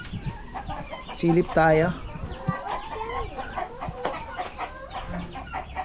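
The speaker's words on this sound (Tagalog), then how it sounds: "Tingnan natin itong mga senior nating manok." Older laying hens cluck and squawk close by in a farm setting, several overlapping calls in short bursts, while a person speaks briefly over them.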